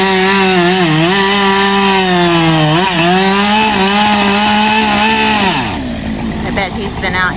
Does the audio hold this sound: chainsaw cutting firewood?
yes